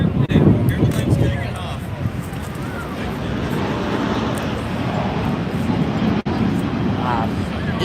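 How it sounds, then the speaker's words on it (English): An Ethiopian Airlines Boeing 787 Dreamliner taking off at Dulles, heard as a steady broad jet roar from a distance, mixed with wind buffeting on the microphone throughout. "Ethiopian Airlines just took off. See it? Pretty cool. It's a Dreamliner 787."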